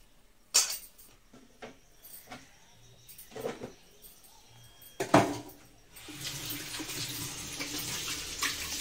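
Water splashes in bursts from a newly fitted household tap, with a few clinks and knocks before the stream settles into a steady running hiss near the end.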